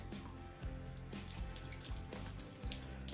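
Makeup brushes are rinsed under a running tap, a steady close splash of water with small irregular spatters and gurgles throughout.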